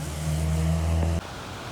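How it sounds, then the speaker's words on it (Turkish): An electric trolleybus passes on a street in Vilnius Old Town, its steady tonal motor whine and rumble loud and close before cutting off abruptly, leaving background street noise without talk. "buranın tramvay gibi, otobüs gibi bir şey aslında ama yukarıdan elektrikli"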